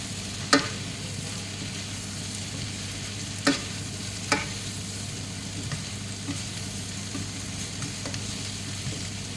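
Steady frying sizzle in a pan with a few sharp clinks of a utensil stirring, close and continuous, no talking, as chicken intestines are stir-fried.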